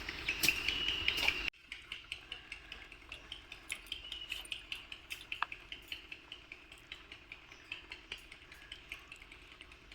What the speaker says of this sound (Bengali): আমি অল্প অল্প জল দিয়ে ব্যাটারটা রেডি করে নিচ্ছি